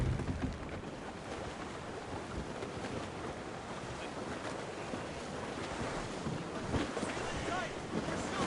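Strong squall wind roars steadily at sea during a sailing scene in Assassin's Creed Rogue, a broad continuous rush with crashing surf and creaking ship noise, loud and unbroken throughout.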